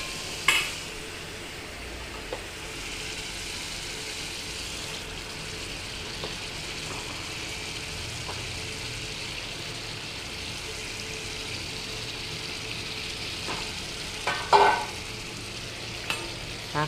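Vegetables stirred into a spiced masala fry with a soft, steady sizzle, with an occasional clink of the spoon against the pan near the end and no talking.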